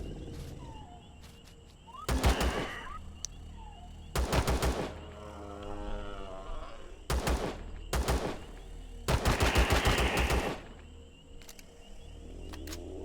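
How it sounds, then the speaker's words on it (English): Assault rifle fire in the space survival game Empyrion as infected talons rush in: five or six loud bursts of rapid automatic shots, each lasting about a second, spaced apart with quieter game ambience and no talk between them. "the assault rifle's holding its own"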